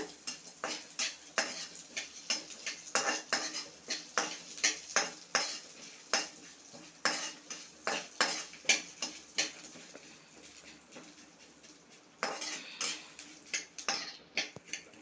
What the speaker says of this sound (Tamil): இந்த மாதிரி எல்லாம் சேர்ந்து வறுபடுற மாதிரி வறுத்துக்கோங்க.